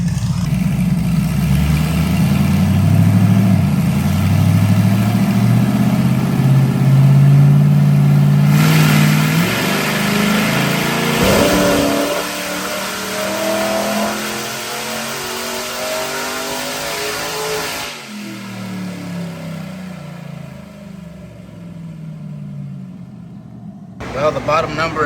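A car engine roars at high revs for a long sustained nitrous pull on a dyno, then drops in pitch and winds down, loud and close.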